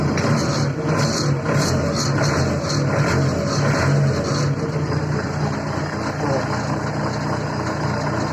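A cold Skaut 404S diesel tractor engine chugs steadily at idle after starting, loud and close, with a faint voice now and then over the running motor.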